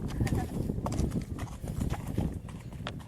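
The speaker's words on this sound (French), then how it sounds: "et là, il y a un cheval." Horse hooves clip-clop in an irregular rhythm on hard ground close by, while people talk over the steps.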